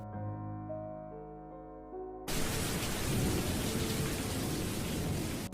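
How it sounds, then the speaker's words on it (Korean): A heavy rain shower with thunder outside a window: a quiet tonal passage gives way abruptly to a loud, dense roar of downpour with rumbling thunder, steady and continuous to the end. "밖에 소나기가 내리기 시작했다"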